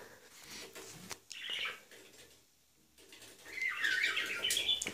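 Pet budgerigars chirp indoors at home, soft scattered tweets and chatter in short bursts with a brief quiet gap between, faint and close.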